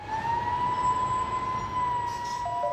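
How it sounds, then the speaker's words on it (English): Emergency vehicle siren on a city street, a steady wailing tone held throughout with a pitch dip near the end, moderately loud over a constant low traffic rumble. "When you hear the sirens, everybody wakes up and pays attention not to be in the way."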